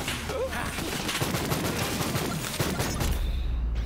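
An odd close-range weapon in the shooter game Borderlands 3 firing continuously, a dense, loud crackling barrage of rapid shots that runs through the whole stretch without pause.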